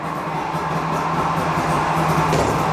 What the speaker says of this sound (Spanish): Estos motores de 2 tiempos arrancan muy bien. Me encanta el sonido